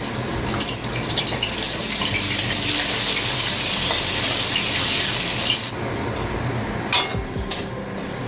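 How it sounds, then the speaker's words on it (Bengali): Whole potatoes fry in plenty of oil for a Bengali fish thali, a loud, steady crackling sizzle with sharper pops and a brief dip near the end. "যেহেতু আলুগুলো একটু ক্রিস্পি করে ভাজবো, গোটা গোটা আলু তো"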